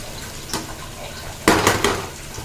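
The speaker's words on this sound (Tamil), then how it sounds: "தண்ணி ஊற்றி கொஞ்சம் வேகட்டும்." Water is poured into a hot cooking pan of vegetable noodles, giving a short, loud splash and hiss midway after faint kitchen clatter.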